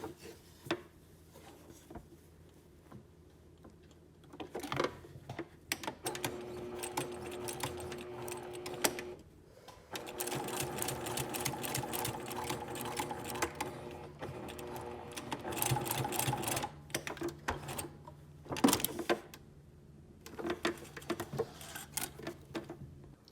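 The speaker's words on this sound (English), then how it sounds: "And now I'll go in reverse for 3 or 4 stitches." Domestic sewing machine stitching a welt pocket, close and clear, in several bursts of rapid rhythmic whirring and clatter separated by pauses with small handling clicks and taps.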